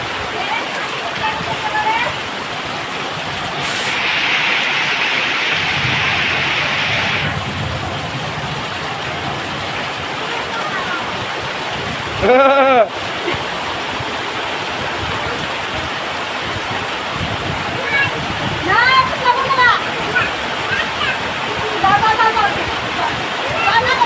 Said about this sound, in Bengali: কি পরিমাণ বৃষ্টি, ঝড় হইতেছে, একদম ভয়াবহ ঝড়